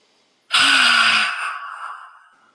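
A single forceful breathing exhale, a loud close breathy rush of air that starts abruptly and fades out over about two seconds, alone after brief silence.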